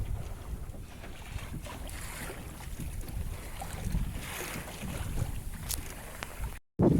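Small sailboat under full sail tacking up a lake in steady wind, with continuous wind buffeting on the microphone, water rushing and slapping along the hull, and occasional creaks, cut off by a brief dropout near the end.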